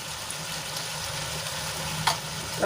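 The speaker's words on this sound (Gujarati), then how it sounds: "મસાલાને સરસ રીતે મિક્સ કરી અને થોડી વાર માટે સંતળાવા દઈશું" Spice masala sautés in a pan for a green chickpea and paneer curry, giving a steady, low, even sizzle throughout, with a couple of faint utensil scrapes near the end.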